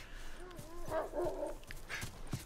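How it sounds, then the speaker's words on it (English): Dogs bark in the distance in The Last of Us video game, with a few short yips and whimpering barks heard faintly under game ambience and a voice. "Where are these dogs barking from?"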